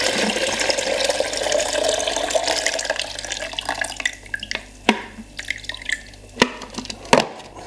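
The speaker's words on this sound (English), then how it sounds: "Empty the development out." Film developer pours out of a developing tank into a sink, a continuous splashing gush of liquid that thins to scattered drips and a few sharp knocks as the flow ends.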